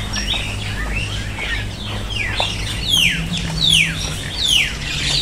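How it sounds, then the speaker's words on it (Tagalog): Several birds chirp and tweet in quick descending calls, fairly close, over a steady low outdoor rumble at Deep Water Bay, Hong Kong. "Oh, yung huni ng mga ibon, kung naririnig mo"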